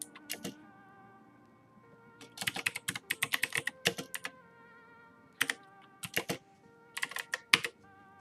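Typing on a computer keyboard, close and clear, in scattered bursts of rapid key clicks separated by short pauses over a faint steady background hum, with no voices.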